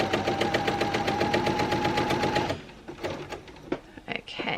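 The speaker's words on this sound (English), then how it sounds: "turn it so that I can sew back down the other leg of that triangle that we have marked in" A sewing machine stitches a continuous lap, a steady fast mechanical whir and rattle for a couple of seconds before it stops, followed by a few faint handling knocks.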